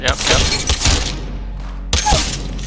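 Shotgun fire in Apex Legends, aimed for headshots, lands as heavy booming shots, with two or three blasts and a sharp impact crack after a pause. Someone speaks faintly underneath.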